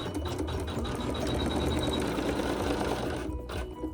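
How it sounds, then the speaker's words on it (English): A sewing machine stitches a tack-down seam on a quilt block, a steady, fast mechanical whir running for several seconds before it stops abruptly near the end. "the machine will sew your tack down stitch."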